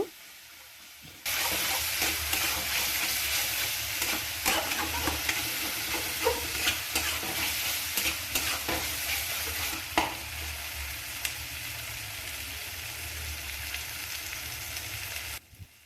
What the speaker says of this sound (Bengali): টমেটো এবং হলুদ ক্যাপসিকাম দুটো মিশিয়ে পেস্ট করেছি ওটা দিয়ে দেব এবার ভালোভাবে মশলাগুলো নাড়িয়ে নেব